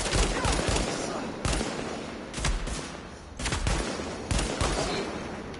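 Gunfire between enemies in the Uncharted 4 video game: a string of sharp, loud shots and bursts cracking out in irregular clusters, close and dense over a low rumbling backdrop.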